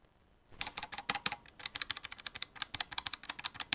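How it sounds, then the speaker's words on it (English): A Keychron K1 mechanical keyboard with clicky blue switches and RGB lighting is typed on up close, a rapid, uneven run of sharp, bright clicks after a short silence. "Listen to this clickiness."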